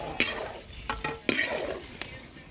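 Chicken sizzles and crackles steadily as it fries in a hot pan while a utensil scrapes and clicks against the metal a few times.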